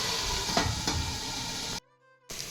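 Brinjal and tamarind frying in oil in a covered pan, a steady dense sizzle at close range that cuts out abruptly for a moment, then resumes.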